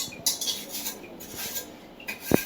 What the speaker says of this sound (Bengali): আমি একটু ধুয়ে দিতেছি বাসনগুলা